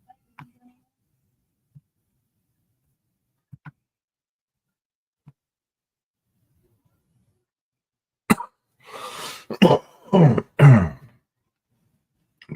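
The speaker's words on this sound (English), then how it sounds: "a bit of a cough today" A few faint clicks and rustles, then a burst of throat clearing and several raspy coughs close by, with a brief spoken word among them.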